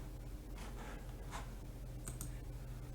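A computer mouse gives a few faint, sparse clicks during saving in a Shopify store editor, with soft desk noise and a low background hum.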